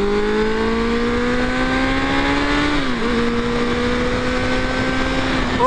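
Suzuki Bandit 600 motorcycle under way, its engine droning loud and steady close to the listener, pitch climbing through a gear, dipping at a shift, then pulling up again, with rushing wind underneath.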